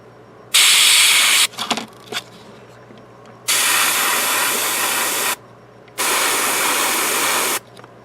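Airbrush spraying paint along the wing edges of a Dropzone Commander miniature, three separate steady hissing bursts of about one to two seconds each, close and loud, with quiet gaps and a few small clicks between.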